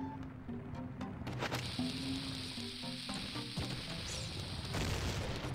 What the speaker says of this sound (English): I threw the bloody bomb.